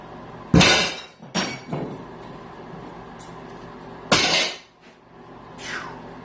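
A large glass mirror breaking during removal: several loud, close crashes and shattering bursts with tinkling shards trailing off between them, no talk.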